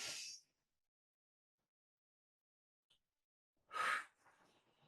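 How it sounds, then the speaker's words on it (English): A deep breath is drawn in and let out slowly, one long airy inhale near the start and a louder, close exhale a few seconds later after a stretch of silence, at the end of a guided breathing exercise. "Last one, biggest, deepest breath."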